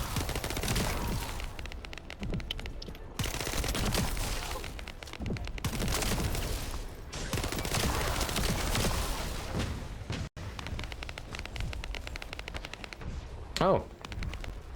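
Dense, nearly continuous automatic gunfire from the shooter game The First Descendant rattles through the whole stretch, broken by one brief gap, with a voice talking over it.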